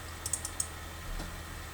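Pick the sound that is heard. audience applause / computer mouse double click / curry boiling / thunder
computer mouse double click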